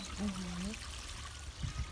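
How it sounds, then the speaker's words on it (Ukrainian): A forest stream trickles steadily in an outdoor setting. A brief voice is heard at the start over the running water. "Ось такий лісовий струмок."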